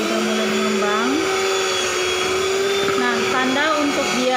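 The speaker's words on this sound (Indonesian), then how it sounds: "setelah kita matikan mixer" An electric hand mixer whirs steadily through brownie batter, a continuous motor drone that shifts pitch a few times as the load changes, with a voice talking over it.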